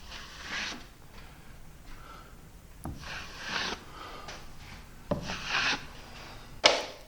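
Repeated scraping strokes of a drywall knife smoothing compound on a ceiling repair, each a soft rasping swipe, with short pauses and a few light clicks between them.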